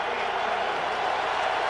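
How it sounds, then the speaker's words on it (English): Steady, dense roar of a stadium crowd at an NFL game between the San Diego Chargers and Indianapolis Colts, continuous and loud, with commentary faintly mixed in. "the crowd noise continues to be deafening in many of the arenas"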